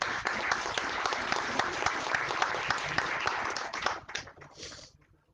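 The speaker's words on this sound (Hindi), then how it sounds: "जोरदार तालियों से स्वागत कीजिए।" Audience applause welcoming guests at a Hindi-language academic session, a dense steady wash of many hands clapping for about four seconds before tapering off, fairly close and continuous.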